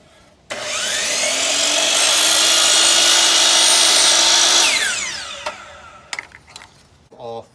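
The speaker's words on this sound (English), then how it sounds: "I'm going to miter on the chop saw a 45 there" A chop saw spins up sharply and holds a loud, steady whine as it cuts 45-degree miters in trim pieces for porch columns. The motor then winds down, followed by a few clunks and clicks nearby.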